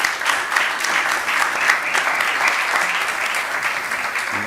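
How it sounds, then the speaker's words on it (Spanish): Audience applause during a closing plenary session in Spain: brisk, dense clapping that stays close and loud throughout, with no talk over it. "no sé por qué te aplauden"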